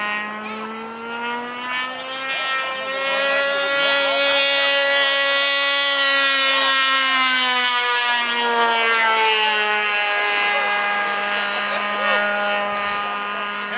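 A small RC car engine screams with its muffler off, a loud, raw, continuous high-pitched whine whose pitch rises and falls slightly as it revs, sustained close by for the whole stretch.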